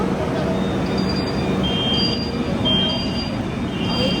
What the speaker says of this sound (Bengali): এক্ষুনি দরজা বন্ধ হবে হবে এই হয়ে গেল